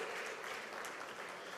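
An audience at a textile industry event in Bhilwara claps in agreement with a speaker, a soft, steady, dense round of applause heard from a distance with no talk over it.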